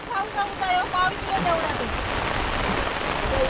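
Steady monsoon rain hiss over Konkan rice fields during transplanting fills the clip, with voices talking over the first half before the downpour continues alone, even and close.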